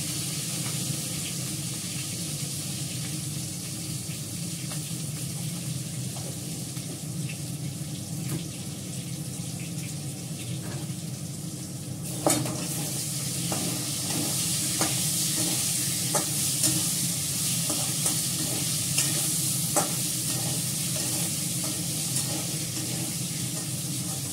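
Cumin seeds and potatoes fry in hot oil with bay leaf and dried red chillies, a steady close sizzle that grows busier halfway through, with scattered crackles and spatula scrapes.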